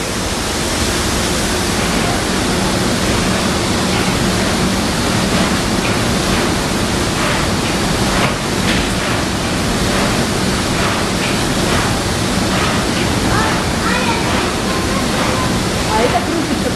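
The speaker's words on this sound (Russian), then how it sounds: "Смотри, вода льется, видишь?" Water pours and splashes steadily from a turning ship paddle wheel, a loud continuous rushing wash throughout, with voices talking over it.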